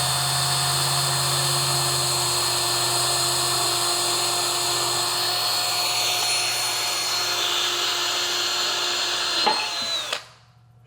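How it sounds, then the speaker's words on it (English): A power drill with a 1/8 inch bit bores through an aluminum railing, a loud steady high whine held for about ten seconds, then the motor winds down and stops abruptly. "I'm drilling with 1/8 inch bit"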